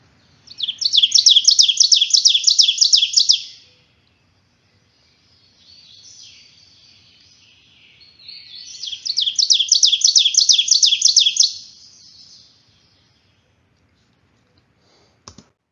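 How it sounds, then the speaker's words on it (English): A forest bird in Kentucky woods sings a loud, rolling teacher-teacher song: two bursts of rapid, evenly repeated bright notes, each lasting about three seconds, separated by a softer, quieter stretch of warbling. "they do their very loud song, which is this rolling teacher, teacher, teacher, teacher, teacher"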